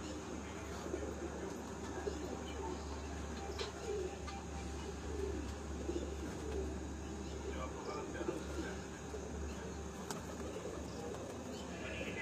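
Rampuri pigeon cooing close by amid a steady background hum, with someone talking over it through most of the stretch.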